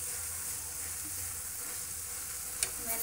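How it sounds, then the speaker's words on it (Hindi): Carrot halwa made with milk is stirred in a pan with a faint, steady sizzling hiss throughout and a couple of light utensil taps near the end. "अब इसको हम अच्छे से मिलाएंगे।"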